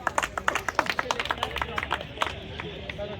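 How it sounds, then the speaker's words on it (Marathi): An audience at a tennis-ball cricket league award ceremony breaks into brisk, uneven clapping, dozens of sharp claps close together with faint crowd murmur beneath. "एकदा कृतिकसाठी जोरदार टाळ्या वाजवा मित्रांनो."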